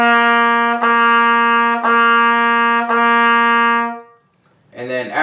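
A trumpet plays warm-down quarter notes starting on C, four sustained, evenly spaced tones on the same pitch, clear and close, followed by a brief pause and a short new note.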